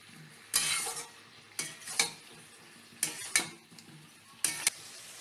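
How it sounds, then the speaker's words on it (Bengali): Metal utensil clinks and scrapes against a pan of potato and pointed gourd curry as a lid goes on, four pairs of sharp clattering knocks spaced about a second apart over a quiet sizzle. "এবার ঢাকা দিয়ে দিলাম"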